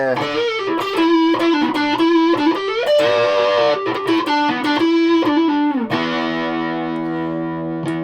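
A distorted electric guitar, a Fender Japan Stratocaster on its neck pickup, plays a short melodic line, then lets a final chord ring out and slowly decay.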